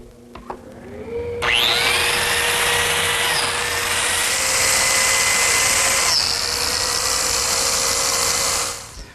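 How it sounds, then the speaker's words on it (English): A biscuit joiner cuts a series of slots in the edge of a wooden frame for a redwood arbor, starting with a short click and then spinning up into a loud, steady high-pitched whine that runs for several seconds before winding down. "cut a series of biscuit slots in the edge of the frame"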